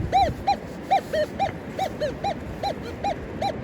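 A metal detector sweeping a New Hampshire beach gives a target signal, a series of short rising-and-falling electronic chirps repeating about twice a second over low background rumble.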